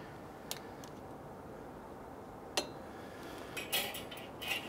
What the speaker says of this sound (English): let's stir up the shrimp here